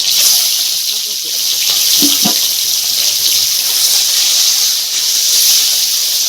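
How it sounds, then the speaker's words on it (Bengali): Eggs sizzle and hiss steadily in hot oil for an egg curry, a loud, constant frying crackle with a couple of brief pops partway through. "এবারে তেলটা গরম হয়ে গেছে ডিমটা ভেজে নিচ্ছি"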